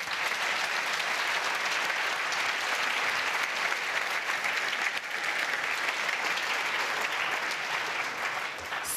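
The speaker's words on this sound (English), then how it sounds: "A round of applause." Audience at the St. Gallen Symposium breaks into sustained, loud applause, a thick steady roar of many hands clapping for the full stretch.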